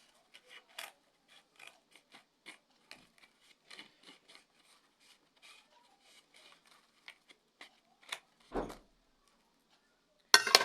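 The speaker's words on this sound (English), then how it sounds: "I'll go ahead and trim out the excess from the cap." Scissors snipping excess material from a hat crown in a quiet room, a series of faint, irregular cuts and rustles, with a louder scrape near the end.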